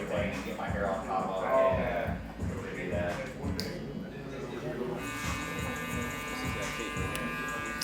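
Electric hair clippers buzzing close by as they trim the neckline during a buzz cut, a steady hum with short interruptions while a person talks over it.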